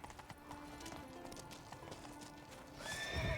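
Hooves clip-clop steadily from a horse in The Witcher 3: Wild Hunt, fairly loud against a busy game soundscape, with a louder whinny or rising bustle near the end.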